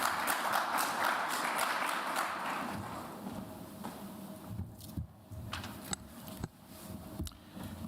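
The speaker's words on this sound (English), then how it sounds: "call on stage the Governor of the Bank of Mauritius, Mr. 𝗂𝗶𝗴𝗶 𝗔𝗌, for his speech, with a big round of applause" Conference audience at an international digital economy and digital banking event applauding the Governor of the Bank of Mauritius onto the stage; dense clapping fills the opening seconds, then thins and fades into scattered claps and room noise.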